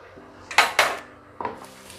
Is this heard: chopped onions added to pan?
yes